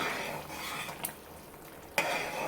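Okra curry cooks in a pan over a medium flame, giving a soft continuous sizzle and bubbling with a couple of brief utensil clinks, close and fairly quiet.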